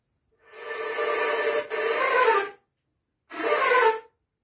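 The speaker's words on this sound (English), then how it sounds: "In this arrangement, I added wind sounds." A flute is blown to make breathy, pitchless wind sounds: two rushing airy gusts, the first longer with a brief break, the second shorter after a pause, close and alone.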